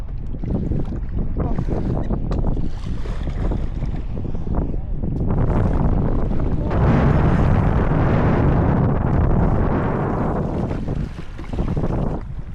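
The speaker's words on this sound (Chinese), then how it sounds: "风声真的超级大的" Strong wind at sea buffets the microphone with heavy, continuous low rumbling and gusty roar while paddleboarding in rough water, loud and close throughout.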